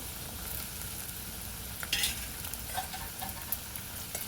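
Eggplant and potatoes fry in turmeric-tinted oil with a steady, soft sizzle, punctuated by a few light clicks and scrapes of stirring.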